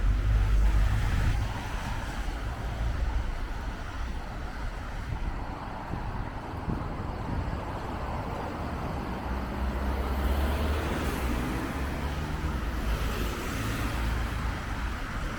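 A red car and then a white van drive past near a roundabout, their tire and engine noise rising and falling through steady background traffic and wind buffeting on the microphone.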